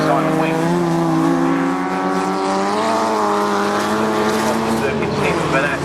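Historic racing cars, including a Mamba Lotus 23 and a Jaguar D-type, race at Cadwell Park with a steady, loud, droning engine note that holds throughout, while a commentator talks over it.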